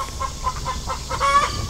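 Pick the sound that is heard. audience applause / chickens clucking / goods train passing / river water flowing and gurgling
chickens clucking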